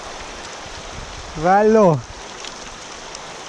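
Flowing river water makes a steady, close broadband rush throughout, while a voice briefly speaks a single word over it midway.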